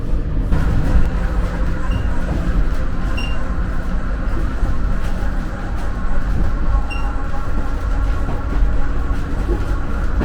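A loud, continuous low rumble and rattling drone heard from inside a moving train's locomotive, with faint squeaks and no clear talk.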